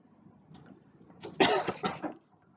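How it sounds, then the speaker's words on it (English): A person gives a few quick, close coughs, a short burst followed by two or three smaller throat-clearing coughs, with no talking. "Developing a little cough"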